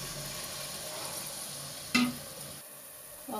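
Water goes into a pan of hot oil and fried spices for a sweet potato and egg curry, giving a sudden sharp hiss and splash that settles into a soft, steady sizzle, with no talking.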